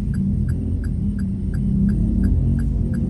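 Hazard warning lights ticking inside a Toyota Yaris Cross Hybrid while it drives on rough concrete and asphalt, a steady even series of about nine crisp clicks over a loud continuous road rumble.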